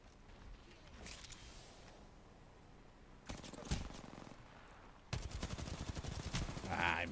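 Bursts of video game gunfire from a shooter, rapid clustered shots crackling in two main volleys, the second louder and denser, with faint ambient noise between.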